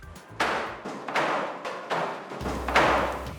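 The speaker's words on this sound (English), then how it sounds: "Did you hear that banging?" Workers bang on a pail to knock out crystallized sugar, producing several heavy thuds spaced about half a second apart, each followed by a rushing, reverberant decay in a large space.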